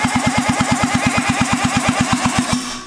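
Rare rotary engine on a shifter kart finally starting, running in a fast, even, close-up pulse for a few seconds before cutting out abruptly.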